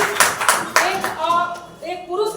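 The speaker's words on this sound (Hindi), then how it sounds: "उनके लिए ताली बजाओ" Audience applause: several sharp bursts of hand clapping in quick succession, fairly close and loud, fading as a voice starts speaking.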